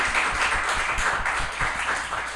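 A church youth-group congregation claps vigorously to welcome newcomers at a Sunday service, a dense, steady wash of many hands sustained throughout without talk.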